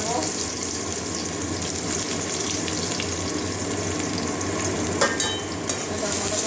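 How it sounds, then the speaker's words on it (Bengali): Onion frying in a pan for a bhindi, potato and chana dal dish, a loud dense sizzle continuing throughout, with a couple of clattering stirs near the end and a low steady hum beneath. "ভেজে নেবো পেঁয়াজটা"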